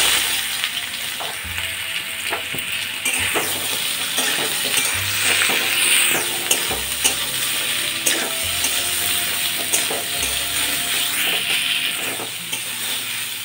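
Hog plums fry in hot mustard oil over a five-spice and dried-chili tempering, giving a steady close sizzle broken by regular scraping stirs every second or two.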